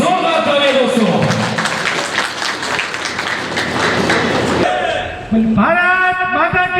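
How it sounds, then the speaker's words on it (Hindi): An audience at a 2024 national party convention in a hall breaks into applause that lasts several seconds, with voices heard before and after the clapping. "एक बार जोरदार तालियां दोस्तों"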